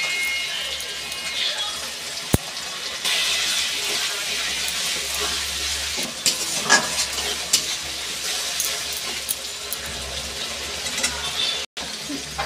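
Ginger-garlic paste with dried chilli and cumin frying in a pan, a steady broadband sizzle with stirring scrapes and a low hum underneath, one sharp click early on.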